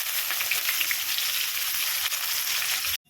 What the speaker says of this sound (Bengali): এবার দেব পেঁয়াজ কুচিগুলো,